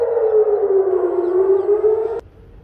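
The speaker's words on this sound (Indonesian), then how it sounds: "Sirine peringatan berbunyi di kota Eilat, Israel pada Minggu 21 Juli pagi" A civil defense warning siren wails in Eilat, Israel, one loud sustained tone slowly sliding down in pitch before cutting off abruptly near the end.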